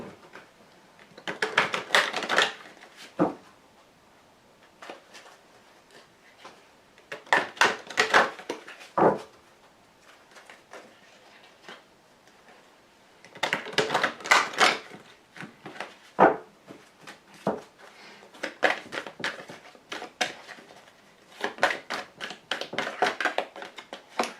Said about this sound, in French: je vais tirer donc 5 cartes avec le grand jeu de Mademoiselle Lenormand